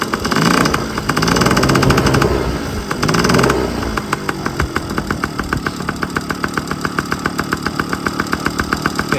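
A 1997 Yamaha PW50 two-stroke shaft-drive motorcycle engine runs up close, first with a few rough revving bursts, then settling into a steady, rapidly pulsing idle as it warms up.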